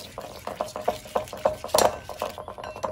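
Butter head salad being tossed and mixed with vinegar in a bowl, giving a close run of soft, irregular stirring scrapes and light clinks of utensils, with one louder rustle midway.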